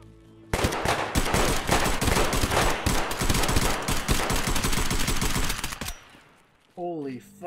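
Suppressed automatic fire in Escape from Tarkov, a dense fast string of muffled shots lasting about five seconds, then a short quiet tail and a brief burst of voice near the end.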